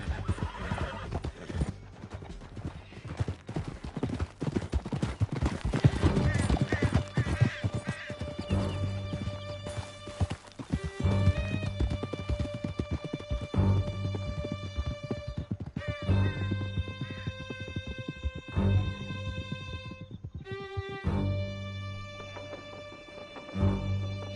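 Horses galloping hard through a canyon, rapid pounding hooves with whinnies and neighs over dramatic music, some crashing impacts, and little talk.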